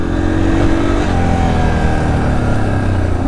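A Yamaha TTR230 dirt bike engine drones loud and close while riding a trail, a steady mid-pitched hum with slight rises in revs and a constant rumble underneath.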